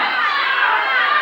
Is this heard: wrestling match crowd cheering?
yes